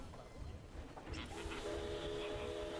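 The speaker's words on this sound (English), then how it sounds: "this train's about to leave" A departing train in the zoo-management game Planet Zoo rumbles and rolls steadily, with a sustained horn-like tone entering midway and holding at moderate loudness to the end.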